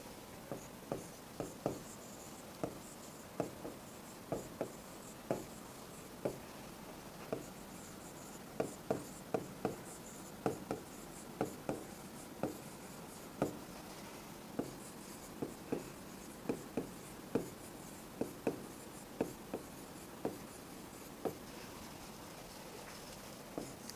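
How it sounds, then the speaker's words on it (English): Chalk or marker strokes on a board during a Sanskrit lesson, sharp repeated taps and scratches in an irregular steady rhythm, close and clear with no talking. "Now I will write the Dhatu Rupavali."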